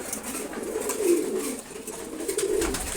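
Pigeons coo in a steady low burble in a home loft of pet racing pigeons, the murmuring calls running continuously at moderate closeness with no talk over them.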